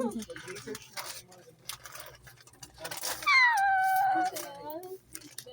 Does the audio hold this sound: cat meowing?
yes